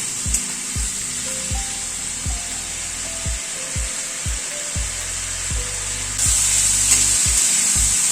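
Ground spices fry with ridge gourd in a pan, a steady loud sizzle running throughout while a spatula scrapes and stirs in repeated low strokes, the hiss swelling louder near the end.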